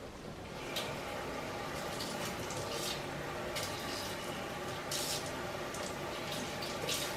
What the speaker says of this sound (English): I'm going to rinse out the cans with some water.